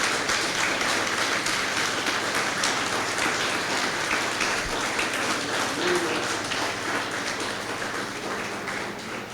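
A church congregation applauding, a dense, continuous patter of many hands clapping at once, steady and fairly loud for the whole stretch with only a slight tapering toward the end.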